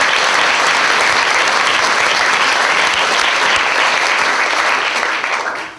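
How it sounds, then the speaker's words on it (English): Loud, sustained audience applause fills a live children's concert hall, a dense continuous wash of clapping that holds steady before tapering slightly at the end. "Round of applause for."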